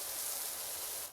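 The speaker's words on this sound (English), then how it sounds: "Adjusting my nozzle here for a wider spray should do the trick nicely" A spray nozzle set to a wider pattern mists cleaner onto a grimy suburban surface, giving a steady, close, broadband hiss that holds evenly for about a second before trailing off.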